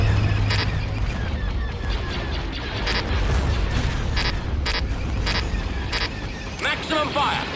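Booming artillery fire in a Star Wars: Empire at War space battle, a steady roar of repeated blasts with sharp recurring bursts layered over continuous rumbling combat noise.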